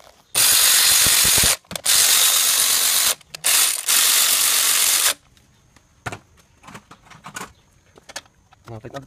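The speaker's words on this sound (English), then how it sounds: "Now tighten up the tensioner, put the belt back onto the alternator" A ratchet wrench clicks rapidly in four quick bursts while tightening the tensioner on a 2006-2008 Audi A4 2.0T during timing belt work, then gives way to softer handling clatter and a voice.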